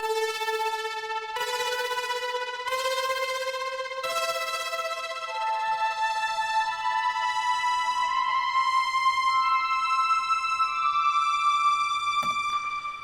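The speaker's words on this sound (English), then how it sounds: "What I want to highlight, though, is this electric lead and the electro vibe here." An electric lead synth and an electro vibe synth play a melodic lead line together, bright sustained tones stepping through a tune with clear note changes, loud and continuous with no talking.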